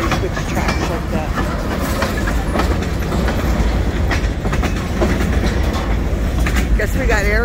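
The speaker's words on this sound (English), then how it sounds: "I love it when they switch tracks like that." A CSX freight train clatters nearby as it switches tracks, with continuous loud rhythmic wheel clacking over the rails and brief squeals.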